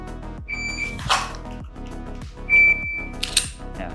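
A shot timer beeps twice in dry fire practice, each short electronic tone answered by a quick click and rustle, over a steady low hum in a quiet room.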